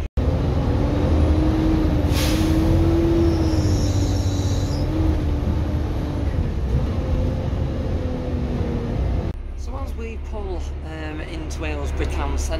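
A tired, worn-sounding bus engine drones steadily with a low rumble and a faint whine, then a voice starts talking over the running engine near the end.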